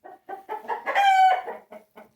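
Hens cluck in short, evenly spaced bursts in a chicken coop, broken midway by one loud, drawn-out rooster crow, all close by.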